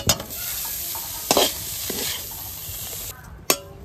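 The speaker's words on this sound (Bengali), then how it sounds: "পনিরটা এখন দিয়ে দিচ্ছি।" Paneer fries in a pan under a constant close sizzle, with a spatula stirring and knocking against the pan in a few sharp strokes.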